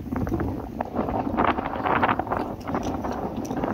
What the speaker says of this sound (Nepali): हावाको गति चाहिँ एकदमै लास्टै हावा चल्ने रहेछ यो ठाउँ चाहिँ।